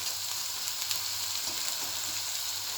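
Onions, garlic and mixed herbs fry in a pan with a soft, even sizzle, and faint stirring scrapes come through now and then; the sound is quiet and steady with no talking.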